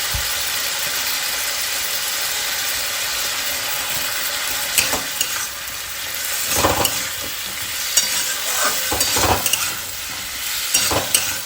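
Khichuri base with ground coriander, cumin and chili powder sautés in a pan, a steady close sizzle broken by louder scraping bursts as it is stirred, no voices.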